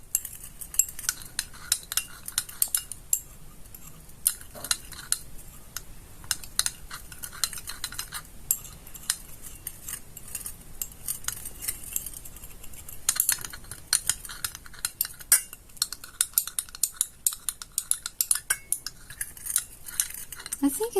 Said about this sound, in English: We have to stir it up until the granules are